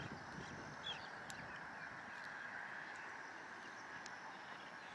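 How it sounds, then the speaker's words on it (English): Ducks on a riverbank in a town park, a few faint scattered quacks and honks in the distance over steady outdoor background noise. "A few ducks here."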